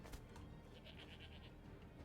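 A series of short, bright bleats from goats in the video game Skyrim repeats in quick succession over a steady low background hum, at a moderate distance.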